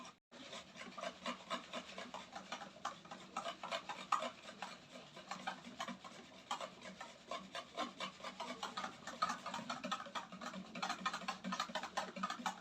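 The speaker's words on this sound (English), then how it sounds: "put the egg yolk, you stir it well until it mixes" An egg yolk is stirred into a bread dough mixture with repeated close, scraping, rubbing strokes in an uneven rhythm, fairly quiet, with no talking.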